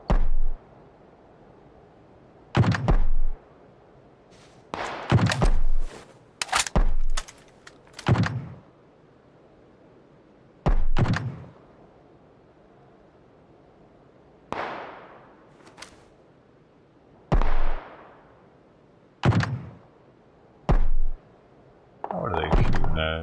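Gunfire in the video game PUBG: a string of irregular, punchy shots, some single and some in quick pairs or bursts, separated by quiet gaps, with a faint voice talking now and then.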